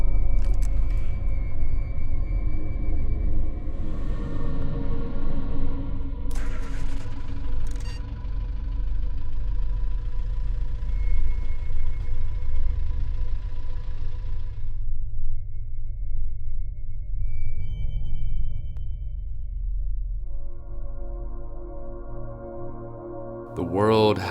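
A gargantuan engine in a video game world hums with a steady, loud low drone that persists throughout, with occasional higher tonal swells and clanks layered over it.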